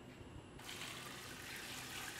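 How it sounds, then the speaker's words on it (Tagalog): Water pours into a cooking pot, about 3 to 4 liters, with a steady rushing splash that swells after a brief start, alone and close. "Pero ang ilalagay natin tubig dito ay around 3 to 4 liters"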